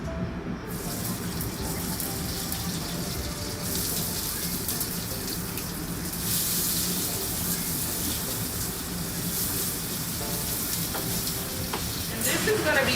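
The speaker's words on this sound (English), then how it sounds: "Now I'm going to add my ingredients to the pan." Tomatoes and other ingredients hit a hot pan and sizzle steadily, a dense continuous frying hiss with occasional stirring, water splashing briefly near the end.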